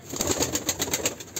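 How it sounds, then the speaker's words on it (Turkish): A Mardin pigeon beats its wings in a quick, even rhythm of close, soft whooshing flaps that carry on without pause, with no one talking. "Kanat sesine bakın."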